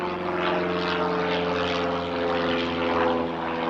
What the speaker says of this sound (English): right by an airport, as you can tell if you hear that airplane